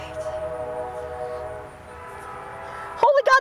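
Train horn sounding in the background, a sustained layered tone holding steady under people talking, then a louder, sharper horn blast bursting in near the end.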